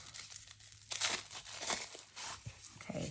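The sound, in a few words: scissors cutting open fountain pen packaging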